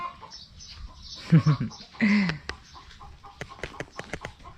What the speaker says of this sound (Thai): ได้ยินเสียงไก่กระตาก